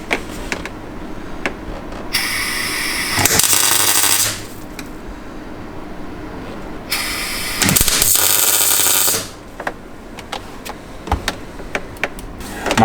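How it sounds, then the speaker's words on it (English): Tack welding a floor pan rust repair inside the cab of a BMW E30: two loud sustained bursts of harsh welder crackle and hiss, each a couple of seconds long, separated by quiet with scattered small clicks and taps. "Let's hop into the cab and get it tack welded in."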